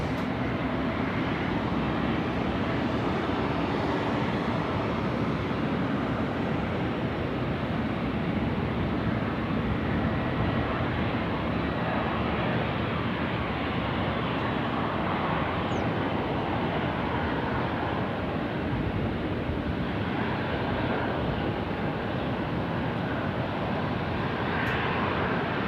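A Qantas airliner on final approach into Sydney from Melbourne gives a steady, continuous jet roar and rumble lasting throughout, moderately loud with no talk over it.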